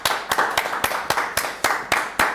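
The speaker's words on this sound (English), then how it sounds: "we're going to clap everybody" Audience clapping in unison at a steady, fairly quick rhythm, roughly nine sharp, close claps in a row with nothing else heard.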